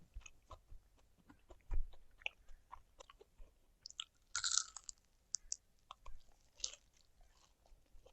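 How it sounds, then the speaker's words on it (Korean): Chewing on grilled sand lance fish, with soft, irregular tearing and crunching bites up close and one sharper crunch partway through, alone in a quiet room. "양미리 완전 뜯어먹는 맛이 있네"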